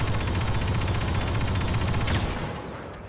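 Rapid blaster gunfire from Star Wars Battlefront II beta, a dense continuous stream of shots pounding close and loud for two seconds before trailing off, with no talking over it.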